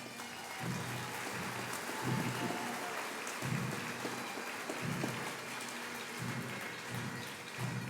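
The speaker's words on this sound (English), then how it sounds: "Let's give them another round of applause." An audience at a summer graduation ceremony gives a round of applause. The clapping is faint, distant and hissing, with soft, regular low thumps pulsing beneath it.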